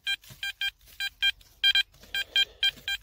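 Metal detector in a field giving repeated high-pitched beeping tones, a dozen short bursts in a steady rhythm, loud and close with no talking.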